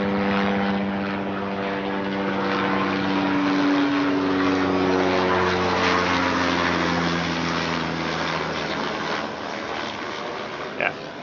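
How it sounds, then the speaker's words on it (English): A helicopter passes overhead on a cloudy day, its steady droning rotor and engine hum holding loud and constant throughout, then easing slightly toward the end. "There's a helicopter flying by."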